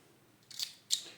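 Scissors cut a headphone cable with two sharp, close snips about a third of a second apart, in an otherwise quiet room.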